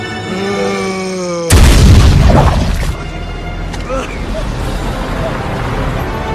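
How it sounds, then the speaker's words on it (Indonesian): Grenade going off at a zombie's feet in a zombie apocalypse film: a sudden loud boom that cuts through an ongoing hum, then a rumbling, debris-filled tail fading over a few seconds. "sebuah granat mendarat tepat di kaki zombie tersebut"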